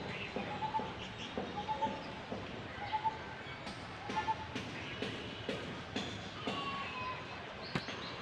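Birds call in a rural outdoor setting with tethered goats nearby, repeating short chirps and coos at a moderate distance over a steady background hiss.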